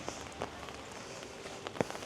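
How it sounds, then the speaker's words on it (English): Rain falls steadily in Bali as a soft, even hiss, with occasional louder drops tapping close by. "It's raining since morning."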